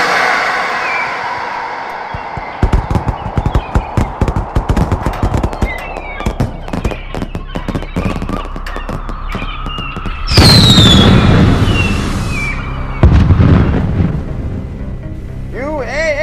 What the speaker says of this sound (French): bienvenue au Festival international des feux d'artifice de Montréal de la Ronde